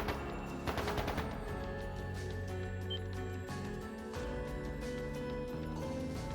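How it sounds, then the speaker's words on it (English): Gunfire in the video game Trails of Cold Steel II crackles in rapid bursts, a rattling volley early on, over faint game music and ambience. "That didn't sound good. That sounded like gunfire."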